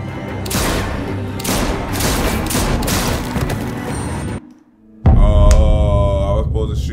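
Dense, sustained gunfire and booming impacts in The Walking Dead game roar continuously for several seconds, drop into a brief lull, then return as a loud, rumbling blast.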